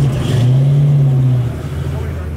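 Built Fox body Mustang muscle car engine revving loudly at a Houston Coffee and Cars show, a steady deep rumble that swells and holds for about a second before easing off amid crowd noise.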